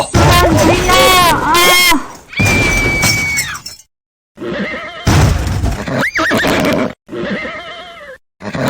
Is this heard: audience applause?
no